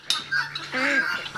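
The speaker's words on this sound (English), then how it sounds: "Do you hear the guineas?" Guinea fowl calling outdoors near livestock, a couple of short harsh squawking bursts at mid distance, fairly loud, with a steady low hum underneath and no talking.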